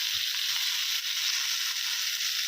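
Fried chicken pieces dropped into a simmering masala with chopped coriander, giving a steady close hiss of sizzling with a few faint low stirring knocks, no voices.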